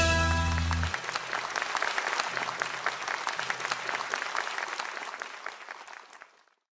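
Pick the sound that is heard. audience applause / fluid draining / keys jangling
audience applause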